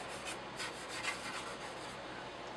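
Soft, faint rubbing strokes as weathering is worked by hand into the seat backs of a model cruiser's interior, a few quick repeated scrubbing passes close by with no voices.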